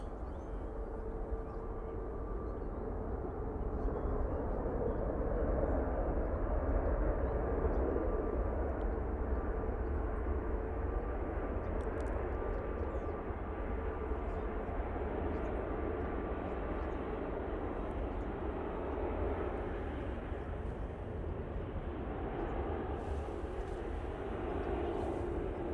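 A freight plane from Brussels touching down at Manchester Airport, heard as a steady, broad jet roar that holds at a distance across the whole stretch, with faint hints of other activity near the end.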